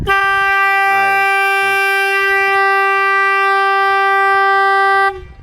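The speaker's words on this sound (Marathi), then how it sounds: "मला वाटलंच हा भोंगा वाजणार, होऊ द्या आपला भोंगा" A loud electric siren horn set up in a farm field to scare animals away sounds one steady, sustained tone for about five seconds, then cuts off abruptly, with no voices over it.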